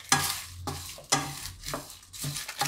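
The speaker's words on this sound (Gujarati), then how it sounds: "થોડીક વાર ફેરવવાનું." Dabeli masala spices being stirred in a pan, with a scraping rhythm that comes in several strokes, each one a brief burst, close up and moderately loud.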